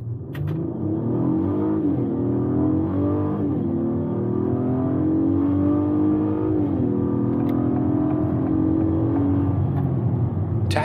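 An Acura MDX pushes through thick snow as deep as the tires, its engine revving hard and steadily with wheel spin, rising in pitch in surges and heard up close from inside.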